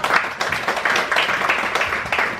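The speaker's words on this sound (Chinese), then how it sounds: "我们应该先给他们工作人员一个热烈的掌声哦" A room of diners at a restaurant dinner event applauds the staff with steady, dense clapping from many hands, sustained and fairly close.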